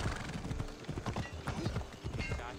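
A horse gallops in Assassin's Creed Odyssey, its hooves clip-clopping in a quick steady rhythm, close and moderately loud, with faint sounds underneath.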